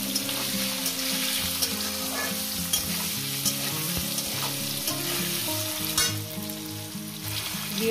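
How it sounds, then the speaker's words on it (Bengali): Vegetables (khesari greens, potato, brinjal and lentil dumplings) frying in a pan with salt and turmeric, giving a steady sizzle with occasional stirring scrapes throughout; no talking. "লবণ হলুদ দিয়ে একসঙ্গে আমি ভেজে নেব।"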